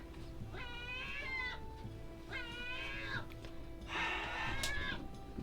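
Cat meowing three times in drawn-out, rising-and-falling calls, close and fairly loud, with a steady hum and faint bird or ambient noise behind it and no talking.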